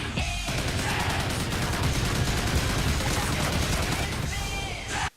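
Sustained, loud automatic gunfire from a juggernaut's minigun in a Call of Duty Ghosts multiplayer match, a dense, unbroken roar lasting about five seconds before cutting off abruptly.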